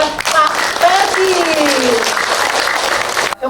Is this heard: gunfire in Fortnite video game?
no